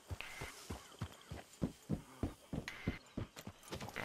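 Horse hooves clip-clop at a steady walking rhythm in the Western video game Red Dead Redemption 2, a dozen or so distinct, fairly close thuds with no talking over them.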